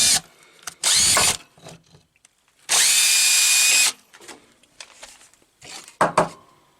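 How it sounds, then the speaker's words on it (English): A power drill whirs in loud bursts, one short and one longer, with quieter clicks and handling noises in between. "Now to drill a hole in them."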